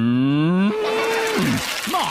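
A person imitates a cow's moo with a long, loud, low drawn-out call that rises slightly, followed by brief wavering vocal sounds.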